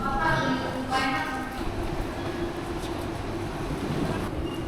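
Train wheels clacking on rails aboard a passenger train from Sochi to Vladikavkaz, a steady rumbling rhythm under a carriage's background noise, with people talking over it.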